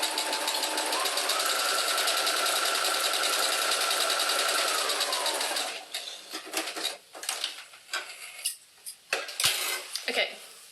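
A sewing machine stitches a second line along a dress seam near the edge, running in a steady, fast, continuous hum for several seconds before stopping, followed by scattered clinks and handling noises.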